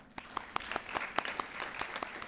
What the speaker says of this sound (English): let's give him an extra round of applause for that